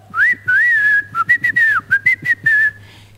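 A comedian on a Marathi comedy stage show imitates a whistle with his voice, producing a lively, wavering melody in short bursts and longer swooping phrases over a low background hum.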